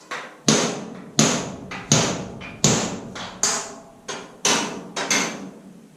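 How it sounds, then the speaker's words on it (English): Nine sharp metal taps of a center punch hammered onto spot welds on a 1928–1929 Ford Model A firewall, struck one by one at a steady, unhurried pace, each ringing briefly before the next, close and clear. "take the center punch and you're going to center punch your spot welds"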